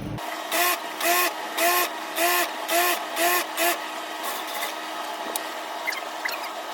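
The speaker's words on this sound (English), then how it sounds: "See, you are sewing the edge, sew the edge, sew the edge." Domestic sewing machine stitching the edge of a curtain in about seven short regular bursts of whirring, close by, followed by quieter handling noise.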